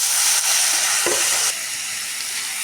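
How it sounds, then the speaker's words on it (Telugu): Tomatoes and onions fry in a pan while being stirred, giving a loud steady sizzle with a scraping stir near the middle before the hiss settles slightly quieter. "ఇప్పుడు ఈ టమాటాలన్నీ మిక్స్ చేసేసుకున్నాయి"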